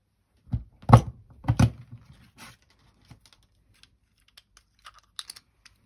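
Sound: punching paper butterflies with a craft punch

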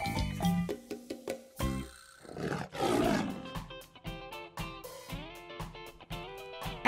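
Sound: lion roaring

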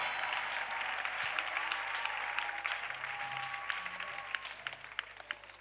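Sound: congregation applauding

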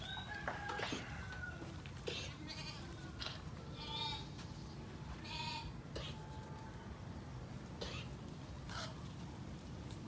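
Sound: goats bleating

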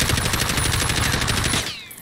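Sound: video game gunfire with anti-recoil

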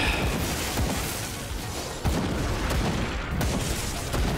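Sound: gunfire in the video game Grim Dawn

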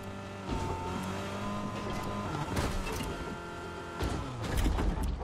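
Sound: car engine in a video game

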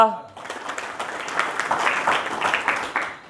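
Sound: audience applause

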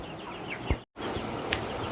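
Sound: broiler chickens

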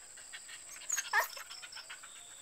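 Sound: dog

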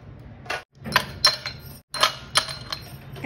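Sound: ice cubes put into a mocktail glass

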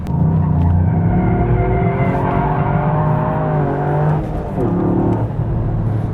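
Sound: Toyota GR Yaris exhaust huffing on race track

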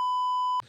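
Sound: censor beep

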